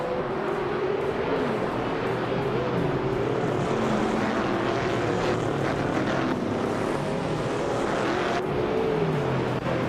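Several racing cars in a video game race pull away from the starting line together, a dense continuous engine drone with rising, shifting pitches as they accelerate, loud and steady with no talking.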